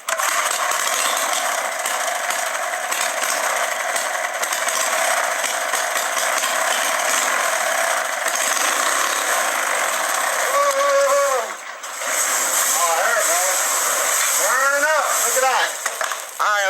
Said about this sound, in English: Can you imagine this engine with the see-through head running while it's on fire in slow motion?